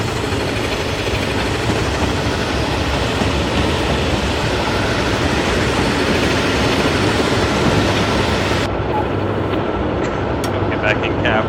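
A locomotive running fast on rails in Train Simulator 2014, a loud, steady rumble and roar of the moving train throughout, with faint clicks near the end.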